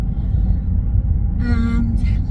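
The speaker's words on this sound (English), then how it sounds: "as you can see, I'm in my car" Steady low road rumble inside a moving car, a constant close drone under a brief higher tonal sound near the end.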